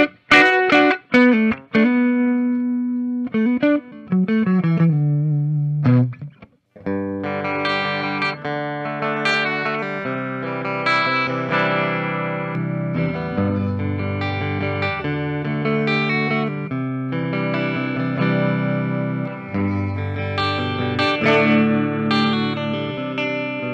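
A Gibson Les Paul CM electric guitar with a Floyd Rose bridge plays a bright, clean, attacking tone, with plucked single notes and a slide at first, then sustained chords and melodic runs with a touch of chorus and reverb, no talking.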